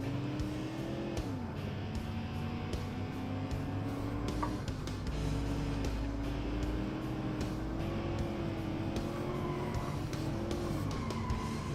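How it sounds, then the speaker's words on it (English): An 80s offroad utility vehicle in a driving game sliding around a tarmac hairpin, a continuous straining engine drone with intermittent tire squeal and scrubbing. "little slide around this hairpin in the last turn"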